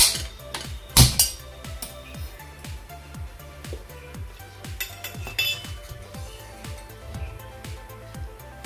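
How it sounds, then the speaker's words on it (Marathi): A metal kadai is set down on a gas stove with one sharp clanking knock, followed by lighter clinks and small rattles of kitchenware nearby. "फोडणीसाठी इथे मी गॅसवर कढई ठेवली आहे"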